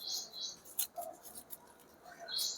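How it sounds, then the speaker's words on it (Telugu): Scissors cutting mosquito net material for a window screen, a few faint, light snips and rustles spread across the moment, close and soft. "సో ఇక్కడ నుంచి ఇక్కడికి ఒకటి కట్ చేసుకోవాలి."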